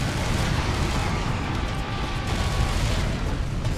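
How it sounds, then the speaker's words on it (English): Cannon fire and cannonball explosions in Serious Sam 3 merge into a dense, loud, rumbling wall of booms with no clear gaps, heavy low-end thunder throughout. "And more cannons too. Cannonballs."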